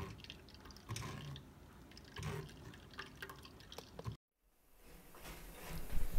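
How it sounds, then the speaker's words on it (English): Blackberry juice pours and drips through a fine strainer into another container, a steady soft liquid trickle with gentle splashes, broken by a brief silence before the flow resumes, slightly louder toward the end. "we're pouring it over into another container and running it through a finer strainer"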